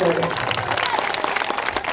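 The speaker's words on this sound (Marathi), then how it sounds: "जोरदार टाळ्या होऊन" Loud applause from an audience gathered at a Shivshahir performance in Yelur, a dense burst of clapping close and full throughout the short moment, with some voices mixed in.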